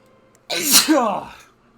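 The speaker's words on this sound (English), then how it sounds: "Sorry, I had to sneeze really bad." A single loud, close sneeze with a sharp intake and explosive burst, alone against near silence.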